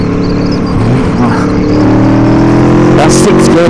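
An Aprilia Tuono V4 engine pulls hard in sixth gear, a loud, close, rising drone that builds steadily in pitch and strength for a few seconds, with a brief voice near the end.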